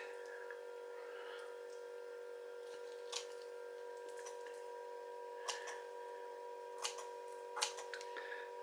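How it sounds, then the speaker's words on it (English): Several quiet, crisp snips of scissors cutting bones from a filleted fish at irregular intervals over a steady background hum, close by and sharp. "this is ready to take them out with the scissors"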